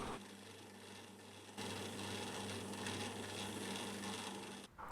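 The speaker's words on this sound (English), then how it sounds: "Last thing was just burnish the edges." Leather edges of an axe sheath are burnished with a steady, continuous rubbing friction that stays even and close for several seconds before stopping abruptly near the end.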